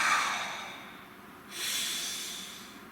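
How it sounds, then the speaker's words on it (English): A slow, deep breath drawn in and let out, a soft airy hiss rising and fading twice, close and alone with no talk. "Nice deep breath."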